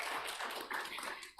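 A church congregation claps together during a Sunday worship service, a dense, continuous patter of many hands at moderate distance, fairly soft overall and without voices.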